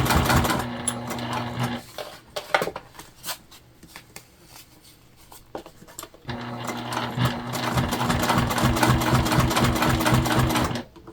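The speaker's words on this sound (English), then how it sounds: "seam allowance and doing a nice top stitch. We're using white thread, so it's not going to be super visible." A sewing machine top-stitching a zipper seam allowance with white thread, running in a loud, fast, steady burst, pausing for a few seconds with scattered clicks, then resuming at full speed.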